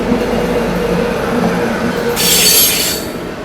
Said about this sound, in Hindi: दुरंतो एक्सप्रेस है ये आप लोगों की CSMT नागपुर दुरंतो लगी है।